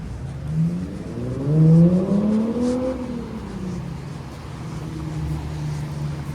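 A car accelerates along a city street, its engine pitch climbing and then falling away as it passes, loud at first and then trailing off into steady traffic hum.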